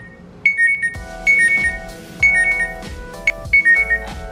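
Repeated electronic alert tones ring out from a phone set off by a Huawei Band 4 smart band's find-phone feature, sounding in four clear bursts of beeping melody with short gaps between them, close and loud.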